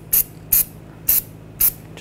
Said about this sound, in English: I'm just gonna use some copper spray